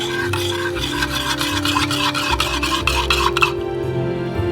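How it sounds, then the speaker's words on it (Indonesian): Spoon stirring sugar and salt into a pot of water on a stove, a steady scraping and rubbing rhythm against the pot for several seconds before stopping. "tambahkan 1 sendok makan gula, garam, dan aduk"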